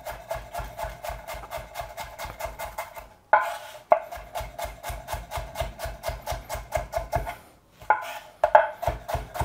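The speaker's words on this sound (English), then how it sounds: "onions chopped, so I can add that." Rapid, steady knife chopping of onions on a cutting board, close and loud, with brief pauses for a few sharper knocks and scrapes as the pieces are moved.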